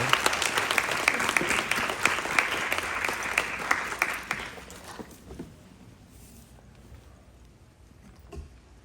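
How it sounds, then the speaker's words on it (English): An audience at a museum press opening gives a round of applause for the chairman, brisk clapping lasting about five seconds before thinning out to near quiet with a few stray claps. "Please join me with a heartfelt round of applause for our chairman, Raymond J. McGuire."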